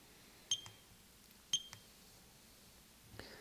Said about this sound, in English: You can hear it beep every time I hit a key.